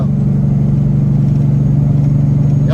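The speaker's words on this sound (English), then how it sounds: "Y'all hear that Jake brake singing too, huh? Down the hill." A truck's Jake brake engine braking downhill near Hatch, New Mexico, a loud steady low drone with a constant pulsing rumble heard close from inside the cab, without speech.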